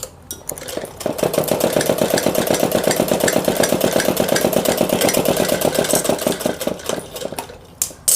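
A sewing machine stitching fine seams just under buckram while making a suit, running in a fast, even, close mechanical rattle for several seconds before slowing and stopping.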